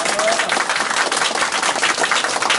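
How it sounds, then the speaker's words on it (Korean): An audience at a 1000th-session lecture celebration bursts into loud, dense applause on cue, a continuous crackle of many hands clapping close by and filling the whole moment without voices on top. "여러분 뜨거운 박수 부탁을 드리겠습니다."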